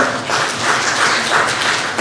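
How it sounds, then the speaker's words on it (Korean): Steady applause from an audience at an academic presentation on intangible heritage in Chungju, sustained and fairly loud throughout with no speech over it. "박수 부탁드리겠습니다"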